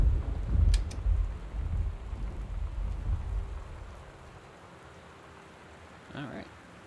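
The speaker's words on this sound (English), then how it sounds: "Oh, I hate that thunder." Thunder in the Gone Home video game rumbles low and heavy over steady rain, then fades to a soft hiss of falling rain with a faint distant rumble near the end.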